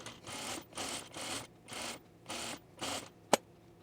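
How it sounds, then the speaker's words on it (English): Sewing machine edge stitching a dress waistband in short rhythmic bursts, about six quick runs with brief gaps, ending in a sharp click; close and quiet. "So we're just gonna edge stitch it right into the seam allowance."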